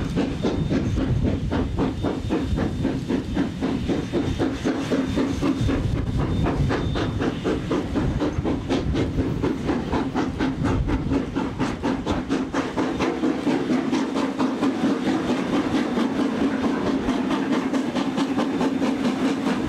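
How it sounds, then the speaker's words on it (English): A New Zealand train departing in blustery conditions, heard as a continuous rumbling roll with a rapid regular clatter of wheels and a persistent hiss, fairly loud and steady for the whole stretch, with no talking. "the train departed at 4:15 in blustery conditions"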